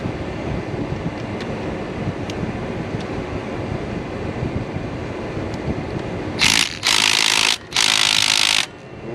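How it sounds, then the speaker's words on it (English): An impact wrench on a 2008 Silverado 2500HD 6.6 Duramax loosens tight bolts during a water pump replacement, rattling in three loud bursts near the end after a long stretch of low ambient noise. "So I've got an impact now, like I should have had in the beginning."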